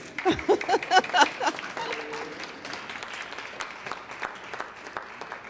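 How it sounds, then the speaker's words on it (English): Audience at a board installation ceremony applauding during walking music, clapping strongest early with a few voices mixed in, then settling into a softer steady patter. "Applaud."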